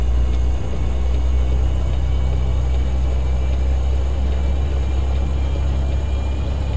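A steady, low truck engine rumble idles continuously in American Truck Simulator, with a constant mechanical drone and no voices.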